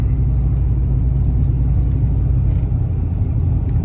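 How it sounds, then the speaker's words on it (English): A 1998–2005 Ford Expedition with a cold air intake cruising along, heard from inside as a loud, steady low engine rumble and road noise with no speech. "Taking a little drive in the Expedition. Drives nice."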